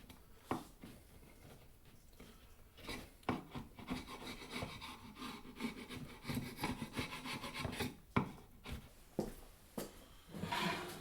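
A chisel scraping dried glue off wooden boards for a chess board build: quiet, irregular rasping strokes with occasional sharper scrapes, close and without speech.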